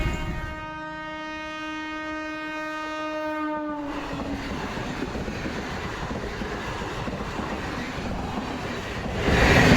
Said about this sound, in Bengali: বলতে না বলতে বন্ধুরা, ট্রেনটা চলে এসছে